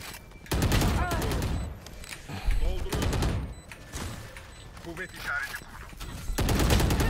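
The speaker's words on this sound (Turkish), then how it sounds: "Git vur git vur Melih." Rapid bursts of gunfire in the tactical shooter Valorant repeat across the round, loud and broadband, with players talking over much of the action.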